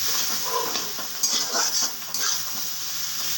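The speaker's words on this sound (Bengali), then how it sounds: "এবার পুরো মশলাটা এর সাথে একটু মিশিয়ে দিলাম।" Cumin powder and a spice mix are stirred in a pan for a cabbage dish, a soft sizzle under scraping of a spoon against the pan, with a few brighter clinks close by.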